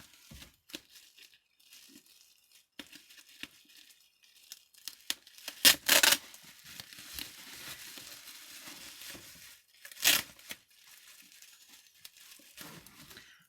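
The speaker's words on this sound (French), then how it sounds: "Je vais essayer de défaire les scotch sans trop abîmer" Quiet crinkling and rustling of packaging, punctuated by two sharp tearing rips of tape pulled loose, close up with no talking.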